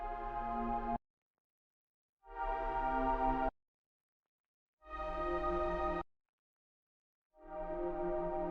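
Stacked one-shot strummed chord samples layered for an R&B beat play with no effects, as four separate sustained chord hits about a second long, each followed by silence.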